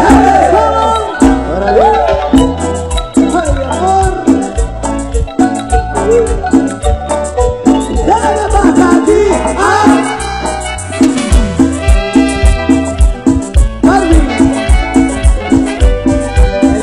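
Loud marimba orchestra music from San Andrés Sajcabajá, Quiché: dense rhythmic mallet melodies over a bouncing bass, playing continuously and close up.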